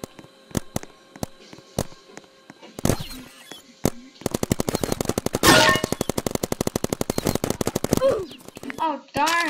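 Turret gunfire in the Roblox video game: scattered single shots, then a long rapid machine-gun burst of evenly spaced loud cracks, with a young voice speaking between volleys.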